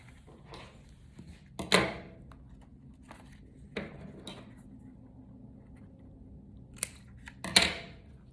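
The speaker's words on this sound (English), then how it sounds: "Looks like I need to trim this just a little bit." Scissors trimming paper for a pop-up card, two or three short crisp snips spaced several seconds apart, close and quiet against a low background hum.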